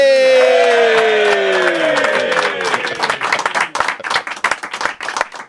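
A crowd applauds a former Town football player at a live show, with cheering and whoops at first that fade into loud, dense, scattered clapping.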